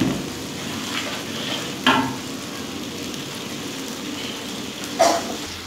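Spice masala for a large batch of vegetable labra fries on low heat, a soft steady sizzle punctuated by two sharp stirring clanks against the pot.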